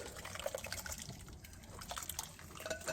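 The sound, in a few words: barbecue sauce being poured over ribs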